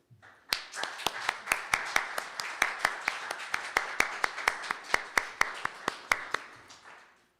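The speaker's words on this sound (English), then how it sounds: "So let us give these folks a round of applause and gratitude for the hard work that they do." A congregation at a Unitarian Universalist Sunday service applauds its teachers, the clapping settling into a steady, evenly spaced rhythm of sharp claps over a soft wash of hands that runs for several seconds before fading out.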